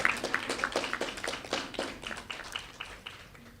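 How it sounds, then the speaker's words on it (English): A small round of applause at an official launch event, a thin scattering of individual claps with audible separate hand strikes, moderately close and fading toward the end. "Give her a bigger round of applause."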